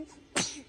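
A baby sneezes once, a single sharp burst following a short quiet inhale, close and clear.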